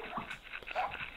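A small dog whimpers and yips in short, uneven bursts, close by but faint.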